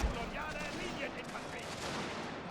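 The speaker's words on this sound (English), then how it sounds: "We're gonna do suppression fire again" Dense, distant battlefield gunfire in Scramble for the Far East, with massed rifle volleys crackling steadily and overlapping into a continuous rumble, fairly faint throughout.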